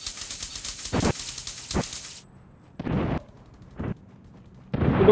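Bomb explosions in the battle-royale game Rules of Survival on PC, a series of sharp booming blasts spaced irregularly, some loud and close, over a hiss of game ambience that drops out midway.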